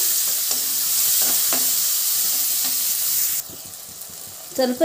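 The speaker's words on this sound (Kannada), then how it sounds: "ಸಣ್ಣದಾಗಿ ಹಚ್ಚಿಟ್ಟಿರೋದು 2 ಈರುಳ್ಳಿ ಹಾಕ್ತಾಯಿದ್ದೀನಿ" Two finely chopped onions sizzle steadily in a pan for ladyfinger (bhindi) masala curry, a constant hiss with a few soft stirring scrapes, dropping quieter near the end.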